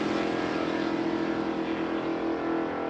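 A Chevy sedan and a 1996 Mustang launch side by side off the starting line at a drag strip, a loud, continuous engine roar with steady droning tone throughout, no voices over it.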